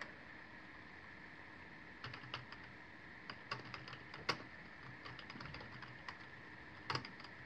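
Irregular bursts of keystrokes on a computer keyboard, clattering in short runs with pauses between them, close and fairly quiet in a still room with no talking.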